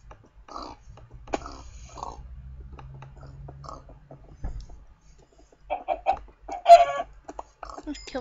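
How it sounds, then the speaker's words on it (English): Minecraft chickens cluck repeatedly in short bursts, joined by clicks and in-game footsteps and thuds, with a louder flurry of clucks and hit sounds toward the end. "Let's kill that chicken."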